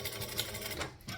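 A home sewing machine back stitches the last stretch of a fabric seam, a quick, quiet mechanical whir of needle strokes lasting about a second, close by and with no talking.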